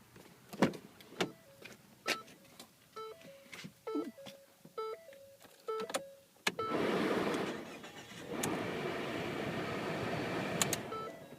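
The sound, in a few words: Ford Escape engine running at an auction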